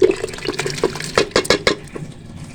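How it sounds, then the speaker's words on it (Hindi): Water is poured into a cooking pot of spices for daal mash, giving a close series of uneven splashes and gurgles with a few clinks of the vessel. "तकरीबन 1 गिलास हमने पानी शामिल किया है"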